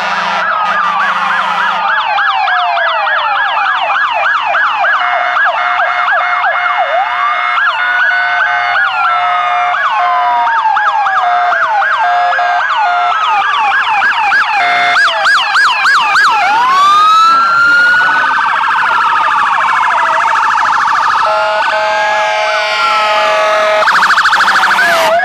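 Several emergency vehicle sirens from state police cars, fire engines and ambulances wail continuously and loudly together during a street parade, rising and falling wails overlapping throughout with no talk.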